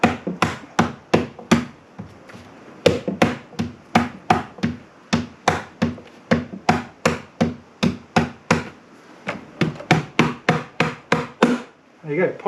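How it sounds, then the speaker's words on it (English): The rubber end of a hammer taps a uPVC window panel into its frame, a long series of sharp, dull knocks in quick irregular bursts, close and loud with short pauses between groups. "I'm just using the rubber end of this hammer, which seems to push it up in there."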